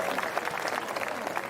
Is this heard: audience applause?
yes